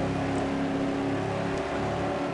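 Ford car engine in the racing video game Ford Street Racing, a loud, steady droning roar with a continuous hum, holding at constant revs without pauses or speech.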